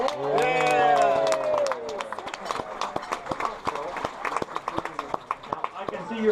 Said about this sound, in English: keep that applause going for you waiters and waitresses